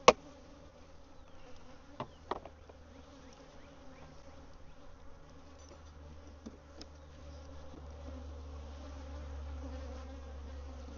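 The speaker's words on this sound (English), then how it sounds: "Looks like there's plenty of bees in here." Honey bees buzzing in an open hive during an inspection, a faint, steady drone with a low hum underneath, a few soft clicks and knocks from handling near the start, and the buzz swelling slightly toward the end.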